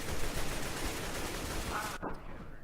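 Gunfire in the shooter game CS:GO, a dense burst of shots filling most of the moment, then cutting off abruptly into quieter game ambience.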